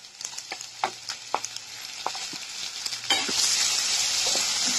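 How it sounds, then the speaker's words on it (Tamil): Tomatoes sauté in a hot pan for a capsicum chicken fry, sizzling with scattered stirring clinks at first, then swelling into a louder, steady frying hiss. "தக்காளியும் இப்போ வதக்குறோம்."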